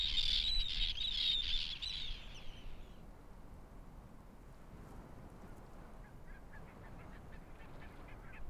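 Barnacle geese honk in a loud burst of repeated calls during the first three seconds, then fade, leaving faint outdoor ambience with soft distant calls near the end in the Icelandic Arctic.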